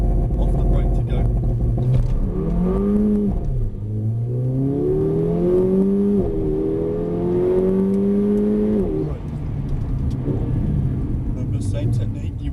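Car accelerating at full power from a standstill on a driving course with blue cones, engine note rising and falling loudly in repeated sweeps, continuous and close, with an instructor's voice talking over it.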